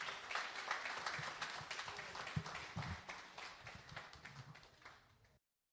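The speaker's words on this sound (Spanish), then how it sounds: "Recibamos con un fuerte aplauso al doctor Manuel Castro Pereira." Faint applause from a conference audience greets Dr. Manuel Castro Pereira at a talk on virtual learning in higher education, a few seconds of scattered, slightly distant clapping that tapers off and then cuts to silence.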